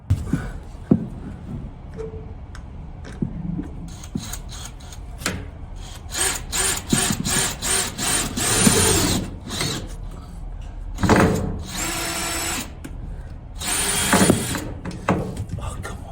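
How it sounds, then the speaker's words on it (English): A power drill whirs in several bursts, boring into wood during a narrowboat fit-out, with grinding, rising pitch, interspersed with clicks and handling noises, quite close. "that doesn't work, so I'll now drill"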